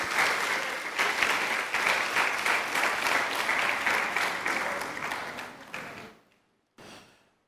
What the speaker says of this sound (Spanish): ¿Por qué no das un aplauso fuerte a Dios?